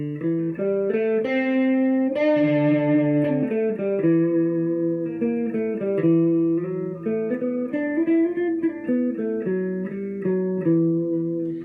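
Electric guitar plays a flowing run of sustained notes and slides, each ringing out with a spacious reverb tail, alone with no talking.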